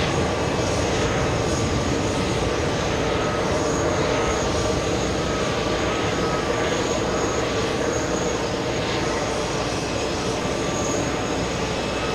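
An Icelandair jet at JFK airport, a loud continuous engine roar with broad rumble and hiss holding steady throughout.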